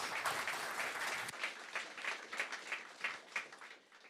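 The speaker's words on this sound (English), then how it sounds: "I think they deserve a round of a big applause." An audience applauds the ten startups at a showcase event, with dense, steady clapping that stays loud at first and then thins into rippling bursts toward the end.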